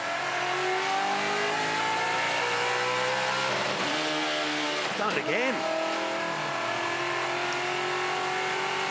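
A touring car engine revs hard and shifts through gears during a circuit race at Hidden Valley, loud and continuous, with a commentator talking over it.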